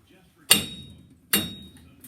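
Two sharp metallic hammer blows ring out about a second apart as a hammer knocks out wheel studs on a Ford Mustang, each blow decaying quickly into a quiet background.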